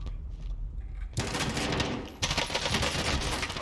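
A RAM-7 assault rifle in Warzone fires loud, close automatic bursts, a rapid stream of shots cutting in abruptly after a quieter opening and continuing with brief breaks.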